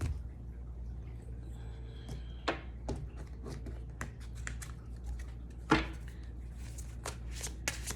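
A deck of oracle word cards being shuffled, giving a series of quick papery riffles and soft slaps at an irregular rhythm, close and clear over a low steady room hum, with no talking.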